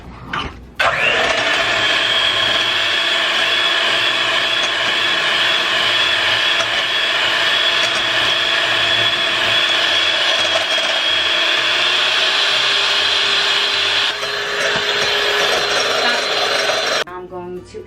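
An electric mixer beats sugar into egg yolks in a bowl, a loud, steady high whine that runs nearly unbroken for most of the stretch, then cuts off near the end.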